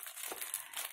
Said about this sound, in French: Désolée pour le bruit du scotch.